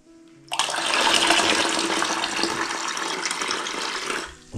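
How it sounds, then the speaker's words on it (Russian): Excess water is poured off a pot of porridge that soaked overnight, making a strong, steady splashing gush for about four seconds. The sound starts abruptly and tails off at the end. "Сливаем водичку"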